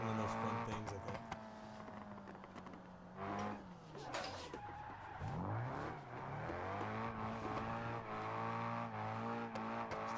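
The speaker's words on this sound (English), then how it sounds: "I'm hearing the audio of the car through my phone" Car engine from a car-building video game, heard secondhand through a phone, droning and revving with rising and falling pitch and a sweeping drop mid-way, held fairly steady throughout.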